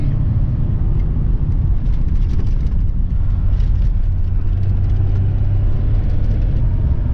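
A Cummins diesel square-body truck drones with a loud, steady low engine rumble throughout, heard from inside the cab with no talking.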